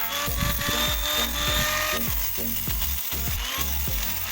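Steady, rhythmic scraping strokes of sandpaper rubbing back and forth across a surface where damaged chrome is being removed, close and continuous, repeated many times without talk.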